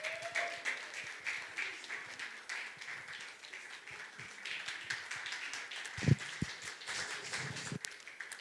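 Scattered audience applause at a consulting firm's live-streamed panel session, a light, uneven patter of claps at moderate distance with a couple of sharper knocks near the end.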